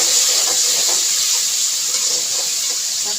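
Tomatoes hit a hot pan and give off a loud, continuous hiss of sizzling that stays level and close throughout, with faint soft pops beneath and no talking.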